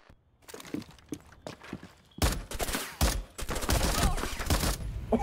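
Rapid bursts of gunfire from a tactical shooter match in Rainbow Six Siege, starting with sparse footsteps and scattered shots, then erupting into sustained loud close-range automatic fire with sharp repeated cracks.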